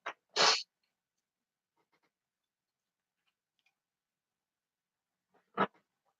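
A pair of quick, sharp sneezes, close and abrupt, followed by near silence with faint background noise, then another single short sneeze-like burst.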